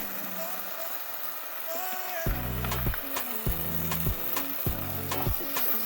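Vegetables and a splash of vinegar stirred in a hot pan for spicy vegetable pasta, with a soft sizzle and several sharp rhythmic scraping strokes of a spoon against the pan.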